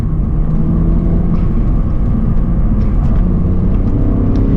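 A manual BMW Z4 drives along, its engine a steady low rumble with road and wind noise filling the cabin, constant and loud throughout with no speech.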